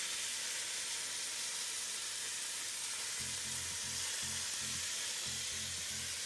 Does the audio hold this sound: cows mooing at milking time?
no